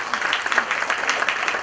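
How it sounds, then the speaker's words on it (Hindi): A crowd at a product launch event applauds in a short, dense burst of clapping heard up close, with no talk over it. "वेरी गुड बहुत बढ़िया जोरदार ताली इनके लिए"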